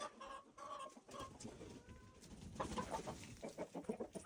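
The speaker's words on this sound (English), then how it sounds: "Why are you attacking the hens?" Rooster and hens on a farm, clucking and squawking close by in short, excited bursts as the rooster goes after the hens.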